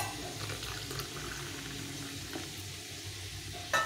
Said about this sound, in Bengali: সর্ষের মধ্যে একটু জল দিয়ে এটা গুলে নিয়ে ধুয়ে নেব